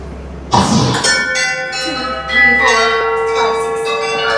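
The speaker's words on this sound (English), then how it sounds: "Hold that wand in your hand, raise it high, and ring the bell once." A single bell rings out once during a live wand show at a theme park, its bright clang hanging and decaying for several seconds after the strike.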